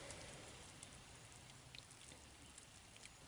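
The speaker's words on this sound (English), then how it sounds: "oh no, it's starting to rain." Rain begins falling on a garden of zinnias, a soft, even patter of drops with a few sharper taps, close and quiet, with no talking.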